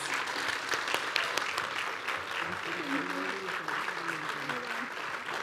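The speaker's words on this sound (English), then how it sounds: "Another round of applause." Sustained applause from an audience at an annual lecture, steady clapping filling the room for several seconds, with a few voices mixed in.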